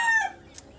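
A rooster crows briefly and close, a short harmonic call that fades quickly, with a soft fowl sound after it.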